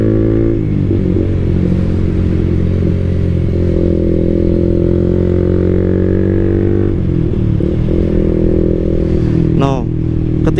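Motorcycle fitted with an open looper and coil buster exhaust, engine idling and revving steadily with a rough, clattery tone, close and loud, dropping in revs near the end; a voice talks over it.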